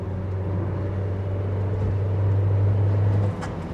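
A car engine drones with a deep, boomy hum that rises steadily in pitch and loudness, then eases off near the end.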